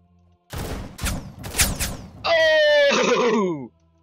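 Gunfire in a shooting video game: three loud, sharp shots spaced about half a second apart, then a brief sustained burst of rapid fire that cuts off abruptly, close and dominant with no voices over it.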